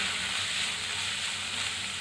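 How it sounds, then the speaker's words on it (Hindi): Grated carrot with cardamom powder sizzles in hot ghee in a pan, a dense close hiss of frying with faint stirring scrapes underneath. "अब इसमें डाल देना है ये गाजर जो हमने ग्रेट करके रखी हुई है।"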